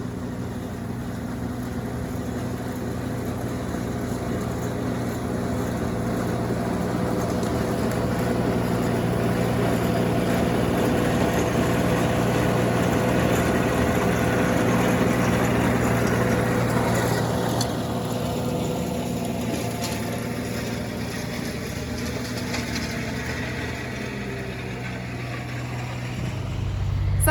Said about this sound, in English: The noise you can hear in the background is the farmer cutting the field grass or something